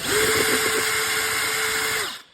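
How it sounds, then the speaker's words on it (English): Power tool whirring steadily for about two seconds on the screws of an exhaust can, loud and close, then stopping abruptly. "There's 2 screws right here that we have to take off."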